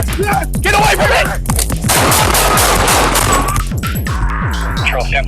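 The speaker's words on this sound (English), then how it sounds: "shot fired." Gunfire during a police confrontation with a knife-wielding suspect after a taser was used: loud, harsh cracks close by, overlapping with shouting voices throughout the short, chaotic clip.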